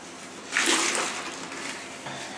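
Water is removed from a toilet bowl, with a short splashing gush at the start followed by softer sloshing and trickling up close.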